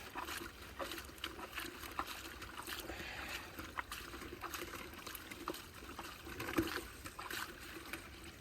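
Water splashes and trickles in a pail while gold-pan material is rinsed, soft and close, with irregular sloshing pours in a quiet setting.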